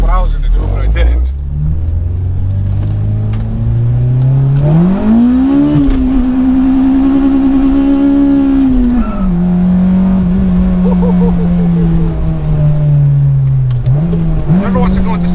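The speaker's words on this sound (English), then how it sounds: "I'll downshift. I'll rev match, but it won't go in." An Acura RSX engine revs hard and climbs in pitch during a downshift with a rev match, then holds a loud steady drone before dropping and rising again, heard close from inside the car.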